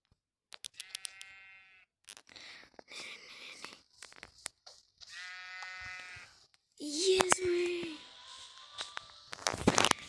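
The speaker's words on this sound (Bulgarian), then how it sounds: "Това е печелившата овца" Sheep in the Minecraft video game bleat several times in short, wavering cries, alternating with footstep taps and a louder, brief whine near the end, all clear and close with no talk.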